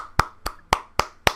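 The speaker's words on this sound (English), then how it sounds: "Round of fucking applause." Five slow, evenly spaced hand claps sound close and crisp, each a sharp separate smack with short gaps between them, like a sarcastic round of applause.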